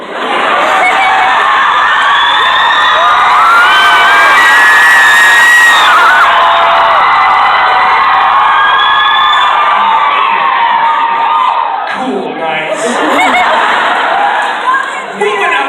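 A large crowd cheers loudly and continuously, with whoops, shouts and high-pitched children's shrieks blending into a dense roar that eases slightly near the end.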